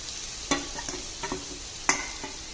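Grated carrot frying in ghee in a pan for carrot halwa, with a soft continuous sizzle and a few close scrapes of a spoon stirring, no talk.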